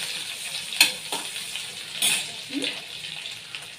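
Ginger and chopped tomato being stir-fried in a spiced tempering, brief bursts of sizzle with a few sharp stirring scrapes and clinks, close and short.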